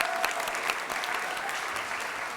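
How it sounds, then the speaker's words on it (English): Audience applause at a Hampton City Schools board meeting, a steady, dense wash of clapping from a room of people that holds at an even level throughout, with no talking over it. "Let's give Giselle a round of applause."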